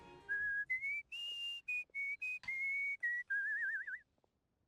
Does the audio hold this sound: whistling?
yes